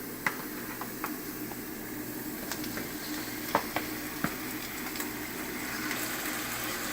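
Chicken sizzles steadily in a hot pan, with scattered sharp pops and crackles over the constant hiss.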